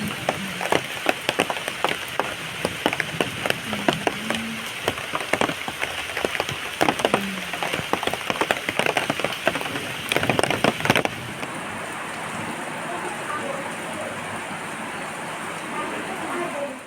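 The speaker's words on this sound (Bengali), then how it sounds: "বাইরে বৃষ্টি হচ্ছিল ঝুমঝুম করে" Heavy rain patters outside a village house in Bangladesh, a dense stream of close drop hits and crackles that thins to a softer, even hiss of rainfall partway through.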